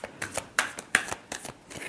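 A deck of tarot cards being shuffled close by in quick riffling bursts, with a steady run of crisp flutters and slaps and no talk over it.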